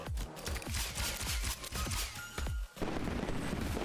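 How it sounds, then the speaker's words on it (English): In a roguelike video game, a flying squirrel firework rocket weapon fires repeatedly, a loud run of sharp, evenly spaced bursts over a dense, noisy background, cut by a brief gap near the end. "When did I pick up the flying squirrel firework rocket?"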